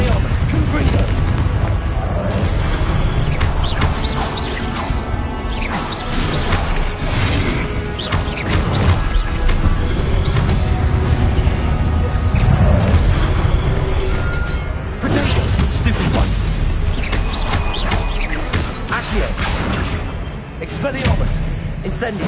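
Spell blasts from Confringo and Incendio in the game Hogwarts Legacy crash and boom continuously under a dense, loud mix of game effects and voices.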